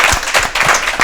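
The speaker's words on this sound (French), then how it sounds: "On applaudit pour elle." Audience applause on a lively morning show, a short, loud burst of many hands clapping with a few distinct sharp claps standing out.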